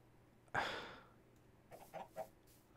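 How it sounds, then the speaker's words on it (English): Minecraft chickens give a few soft clucks, three short bursts following a louder whoosh-like in-game noise, faint and set against a quiet background. "There's chickens here now."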